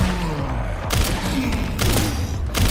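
Gunfire in a video game, slow-spaced shots and dull booms in bursts over a dense, loud background rumble.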